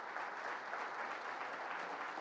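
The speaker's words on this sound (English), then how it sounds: "Let's give them another round of applause" A crowd at a public announcement event by New York Governor Kathy Hochul claps steadily in a dense, even round of applause heard from a distance, with no voices over it.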